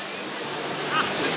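Water flowing down a long trough at Dollywood theme park, a steady broad rushing wash heard close and moderately loud for the whole moment, with faint outdoor background.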